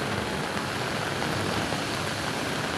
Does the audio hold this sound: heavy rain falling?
yes